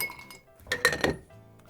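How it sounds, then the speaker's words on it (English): Three ice cubes clink into a glass for a Jack Daniel's drink, making a quick run of bright, close knocks. "So the three ice cubes."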